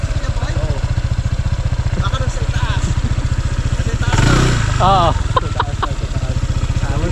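A motorcycle engine idles loud and near with a steady, rapid thumping pulse throughout, while voices call out over it briefly.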